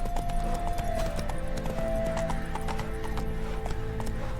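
The horse Roach gallops in The Witcher 3, with rapid rhythmic hoofbeats running continuously under a steady game soundscape and a brief whinny, close and fairly loud.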